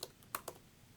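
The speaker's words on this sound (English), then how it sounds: "type in the passcode" Three quick, faint keystrokes are tapped out on a computer keyboard while a passcode is entered on a Mac, each click crisp and isolated against quiet room tone.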